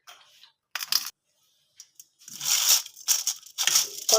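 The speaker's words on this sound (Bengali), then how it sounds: "কতটা শুধু আওয়াজ হচ্ছে খড়খড় করে, দেখুন একদম মচমচে হয়েছে" Crispy fried banana-peel cutlets, cooked golden, crunch in several loud close bites and breaks, irregular bursts separated by brief silences, with no talking.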